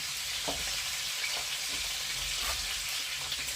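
Meat frying in a pan for a simple Ukrainian peasant Christmas dish, a steady close sizzle and crackle with occasional stirring scrapes, no voices over it.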